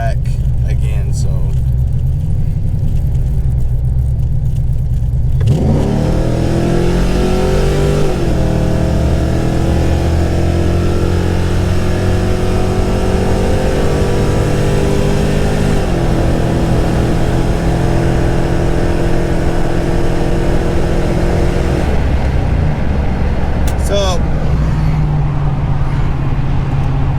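A 2006 Chevy Silverado Intimidator SS pulls hard from idle, its engine roaring loud and close as revs climb through two gear shifts, then easing off toward the end.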